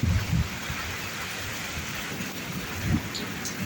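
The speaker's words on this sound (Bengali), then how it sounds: "হালকা হালকা ঝিরিঝিরি বৃষ্টি গায়ে এসে পড়ছে" Steady light drizzle hiss fills the scene, a soft continuous wash of falling drops with faint low rumbles, fairly even and unbroken throughout.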